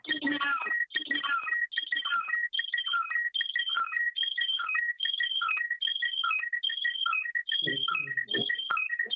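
A phone ringtone plays a repeating electronic melody of quick chirping tones during a meeting, sounding loud and continuous for several seconds, with a brief murmur of voices near the end.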